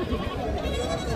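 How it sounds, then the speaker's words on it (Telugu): Large goats of about 40 kg bleat at a busy sheep and goat market in Gudur, a short, moderately faint call among crowd noise and nearby voices. "సో ఈ మేకలు కూడా చాలా పెద్ద సైజులో ఉన్నాయి."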